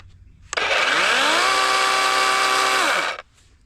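A Dewalt chainsaw starts abruptly and runs loud and close at a steady high rev for about three seconds, the pitch sliding slightly as it settles, then it cuts off.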